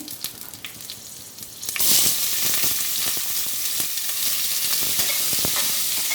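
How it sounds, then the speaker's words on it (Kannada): Cinnamon, cloves, bay leaves and green chillies hit hot oil and burst into a loud, bright sizzle that keeps crackling steadily, with a few soft stirring scrapes before the spices land. "ಸ್ವಲ್ಪ ಎಣ್ಣೆ ಹಾಕೊಂಡಿದ್ದೀನಿ ಒಂದು ನಾಲ್ಕೈದು ಸ್ಪೂನು ಇದಕ್ಕೆ ಚಕ್ಕೆ ಲವಂಗ ಅದೆಲ್ಲ ಹಾಕೊಂಡಿದ್ದೀನಿ"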